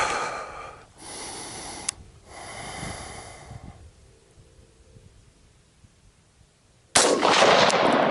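A single sharp gunshot bursts in near the end on an outdoor shooting course. It follows several seconds of heavy, noisy breathing and snorts close to the microphone.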